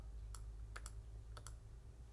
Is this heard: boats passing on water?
no